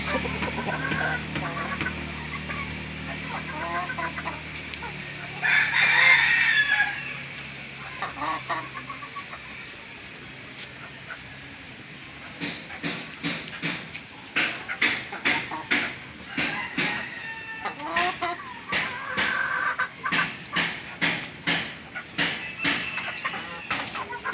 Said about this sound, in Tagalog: Pakita ko ngayon sa inyo yung mga alaga ko rin dito na manok.